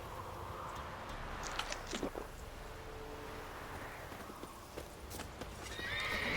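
A horse in a video game neighs and whinnies while its hooves clip-clop steadily, with a second whinny near the end over a faint outdoor ambience.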